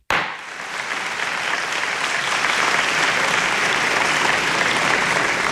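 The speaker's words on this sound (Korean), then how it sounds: "큰 박수 소리와 함께 중국은 드디어 WTO 회원국이 된다." Loud, steady applause erupts suddenly from a large assembly as China joins the WTO, a dense, sustained roar of clapping with no speech over it.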